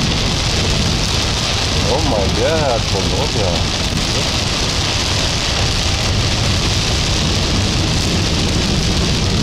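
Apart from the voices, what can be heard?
heavy rain pouring on the street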